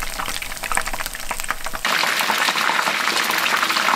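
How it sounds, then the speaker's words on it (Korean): Battered shrimp deep-frying in hot oil, a steady dense sizzle and bubbling that grows louder and fuller partway through, continuous and close with no talk. "튀김옷이 약간 노르스름해질 때까지 좀 튀기고, 근데 새우가 안에 좀 들어있으니까 5분 정도 튀겨야 될 것 같아요."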